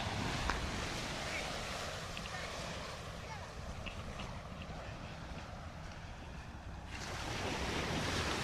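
Ocean waves washing onto a beach, a continuous broad surf roar with wind buffeting the microphone, the rush dipping slightly midway and then swelling again, with no talking.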